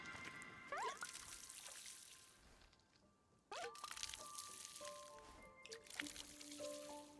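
Water pouring and trickling in the cozy game Wanderstop, with soft drips and liquid splashes in two bursts separated by a short quiet gap, moderately faint with faint tonal game chimes behind.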